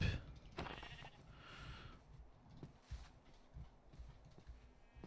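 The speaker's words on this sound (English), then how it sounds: "Let's go get the sheep." Several Minecraft sheep, one black and three white, bleat in the game with a few soft clip-clop steps, faint and somewhat distant.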